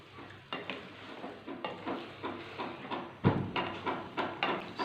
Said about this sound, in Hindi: इसको तकरीबन हम 15 से 20 मिनट तक पकाएंगे हल्की आंच पे।